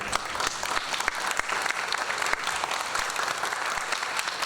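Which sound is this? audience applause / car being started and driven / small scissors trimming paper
audience applause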